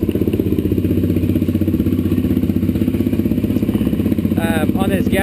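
A Suzuki DRZ400SM motorcycle engine idles with the choke pulled out, a steady, loud, even low throb running throughout. Near the end, a brief voice-like warble sounds over it.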